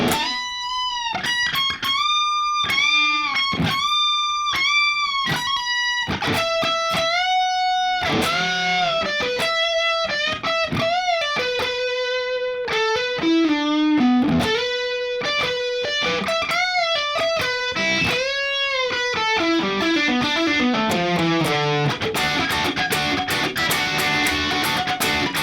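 An electric guitar plays part C of a guitar solo, a loud, sustained, slightly overdriven lead line of bent and held notes with fast runs, played alone without accompaniment.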